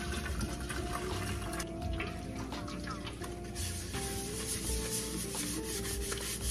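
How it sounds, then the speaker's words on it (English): Candle-making pouring pitchers being scrubbed clean with hot water and dish detergent, giving steady close rubbing, sloshing and running-water noise throughout. "So now I'm just about to clean the pouring pitchers."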